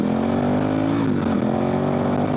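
Adventure motorcycle on Michelin Anakee Wild 50/50 tires, engine droning loud and steady close by, holding an even note with a slight dip and recovery in pitch as it pulls away.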